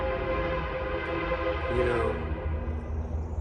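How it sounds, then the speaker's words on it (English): Train passing nearby, a continuous low rumble and rolling drone that fills the whole stretch, with a faint horn-like tone above it and no speech. "Sounds like we got a train."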